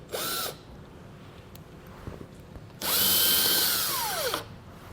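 Power driver spinning out T20 Torx fasteners on a 2022 Audi SQ5: a short whir, a pause with faint clicks, then a longer loud whine that winds up and slows down, close by with no talk.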